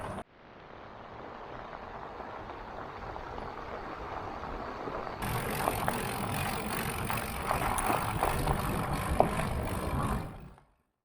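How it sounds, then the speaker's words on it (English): Bicycle tyres crunch steadily over a gravel track near Lochan, a continuous close rolling grind that grows louder and rougher partway through and runs with no talk. "the hum of the road and trucks was replaced by the delicious sound of gravel crunching under our tyres"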